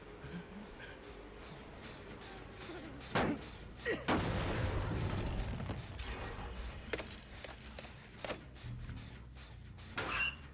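In Dead by Daylight, throwing knives are reloaded with a few sharp metallic clanks and a longer rushing, grinding burst in the middle, all fairly quiet and set against faint ambient game noise.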